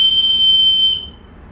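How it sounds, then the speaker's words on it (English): A wooden bird play stand's toy whistle gives a sustained, shrill, high tone, close and clear, that cuts off abruptly after about a second, leaving quiet. "We are getting whistle."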